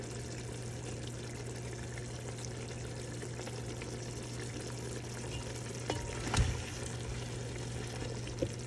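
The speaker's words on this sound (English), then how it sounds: "I'm going to go ahead and add in some water. This is 3 cups of water" Three cups of water poured into a hot pot of seasoned rice with meat masala and chicken bouillon, a steady loud sizzling rush with a brief splashy surge near the end.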